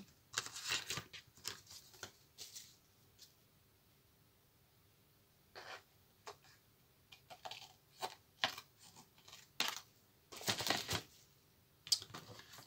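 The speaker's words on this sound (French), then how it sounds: "On va couper l'onglet." Scissors snip the tab off a paper tag in short dry crisp bursts, some single cuts and some quick clusters, close but quiet against a silent background.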